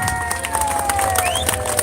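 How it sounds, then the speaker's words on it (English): An audience claps and cheers for a Patriot of the Year award winner at a party, a dense burst of applause with shouts and whistles, fairly loud, under a bit of background music. "I'd like you all to give a big round of applause to Tracy Park"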